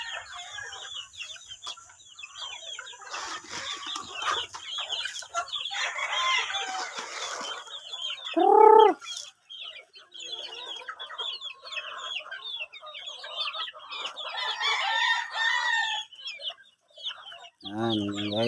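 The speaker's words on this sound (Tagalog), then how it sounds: "madami sisiw ang alaga ko." A flock of chickens with many chicks clucks and peeps continuously close by, the high chirping dense throughout, with one louder squawk partway through.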